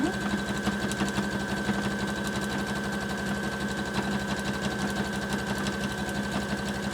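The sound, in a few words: sewing machine zigzag stitching ribbon and twill tape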